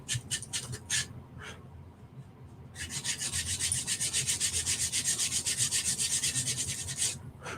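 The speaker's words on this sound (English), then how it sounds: "I'm just going to take my little hand sander and I'm just going to kind of distress the edges" A small hand sander rubs back and forth over the edges of a wooden block, distressing them in rapid, steady rasping strokes, first in short bursts and then in a long continuous run, close and fairly quiet.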